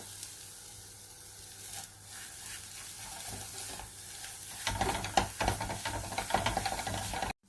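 Garlic and onion sizzle in a pan at home. The faint frying hiss jumps louder partway through as more goes in, with scattered crackles and stirring scrapes.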